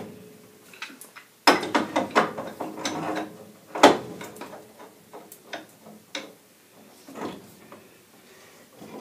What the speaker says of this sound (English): now we're back to the pipe wrench and spud wrench